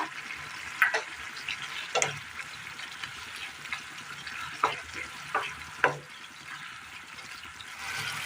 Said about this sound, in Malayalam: കറി നന്നായി ഒന്ന് തിളച്ച് ആ എണ്ണയൊക്കെ ഒന്ന് തെളിഞ്ഞ് വന്നിട്ടുണ്ട്